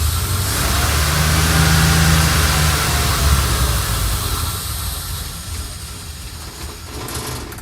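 A 1972 Ford F100 truck engine, its carburetor worn out, running after years sitting: a loud, steady rough idle with a slight rev early on, gradually easing off in level over several seconds.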